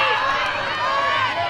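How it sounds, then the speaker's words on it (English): A big crowd at a college softball game cheers loudly for a foul ball, a steady, full roar that holds throughout with a commentator talking over it. "That's a really loud cheer for a foul ball."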